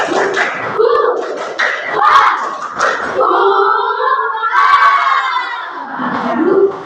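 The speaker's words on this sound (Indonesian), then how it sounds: "Satu kali lagi. Tepuk semangat." A repeat of the tepuk semangat clapping chant by a classroom group: a loud chorus of young voices shouts the rhythmic chant in unison, with scattered claps and taps woven into the lively, close-up cheer.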